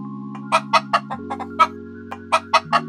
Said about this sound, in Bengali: তারপর বিমলা মুরগি ছাড়ে